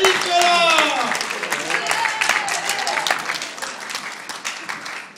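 Applause for cowboy performers at a year-end dinner: a crowd claps loudly and steadily for several seconds, with voices mixed in, slowly thinning toward the end.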